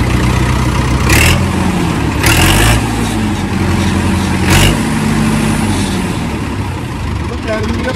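A New Holland 3630 tractor engine runs steadily after starting, a loud, close, continuous mechanical rumble with a brief swell or two, while people talk over it.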